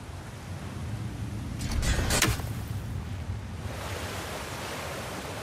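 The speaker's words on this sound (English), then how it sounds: "Sounds like you got the water moving along," Water rushes steadily through a mine in God of War Ragnarok, a broad constant flowing roar that swells briefly near the middle, heard alone without talk.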